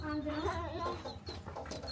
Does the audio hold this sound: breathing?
no